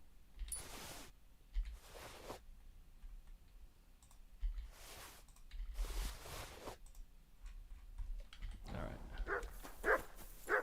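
A dog named Mutt in Kingdom Come: Deliverance 2 barks in several separate loud bursts spread across the stretch, with soft clicking and faint background ambience between them.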